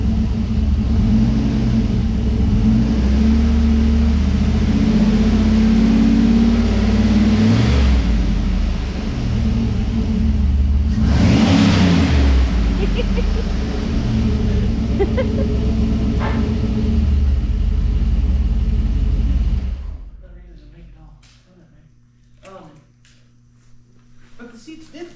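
A Chevrolet Chevelle engine runs steadily with a loud, low rumbling drone for about twenty seconds, swelling a little midway, then cuts off abruptly, leaving a quieter hum and faint clicks.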